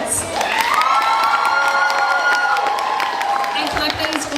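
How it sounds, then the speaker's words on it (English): A large audience at a cosplay competition claps and cheers loudly for the contestants, with whoops and shouts riding over sustained applause that holds strong throughout. "can I get a massive round of applause for our 17 contestants?"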